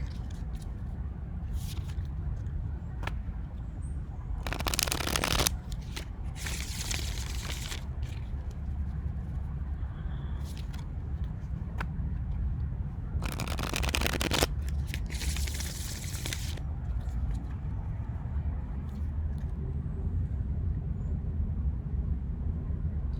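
Tarot cards are shuffled in several bursts of crisp riffling and ruffling, each lasting a second or two and separated by quieter pauses over a steady low background hum, with no voice.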